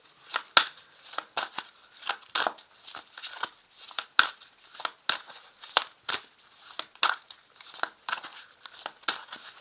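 A tarot deck is cut and handled, giving a quick series of crisp card snaps and papery flicks in an uneven rhythm, close and clear, with no talk.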